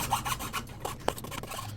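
A carbon fiber boom tube on an RC outrigger boat being cut by hand, a dry rasping stroke repeated in an uneven rhythm, close and fairly quiet with no talk.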